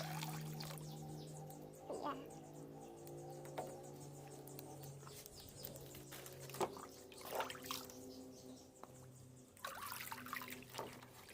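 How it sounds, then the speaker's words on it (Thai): Prepared water is poured into a hydroponic growing container, trickling and splashing in bursts with a steady low hum behind, while someone talks over the pouring. "ใส่น้ำที่เราเตรียมไว้นะคะ เทลงไป"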